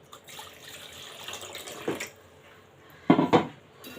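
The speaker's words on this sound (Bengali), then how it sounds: "এই তো নারিকেলের বাটিটা আমি ধুয়ে একটু পানি দিয়ে দিলাম।" Water is poured from a rinsed coconut-shell bowl into a cooking pot of coconut duck meat, giving a soft splash around the middle and a louder, sloshing pour toward the end over quiet kitchen background.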